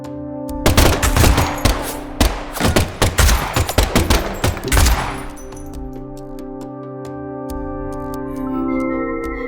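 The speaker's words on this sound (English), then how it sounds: "the last gunshot we heard sounded ominous, Zack" Gunfire in the video game Deadly Premonition 2 crackles in rapid bursts of loud shots for several seconds, then fades into a sustained, ringing musical drone.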